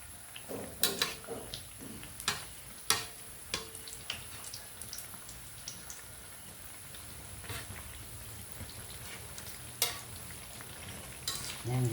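Mochi, known here as butchi-butchi, frying in a wok-style pan, giving a steady low sizzle broken by sharp clinks and scrapes of a utensil stirring the pieces, with no one talking.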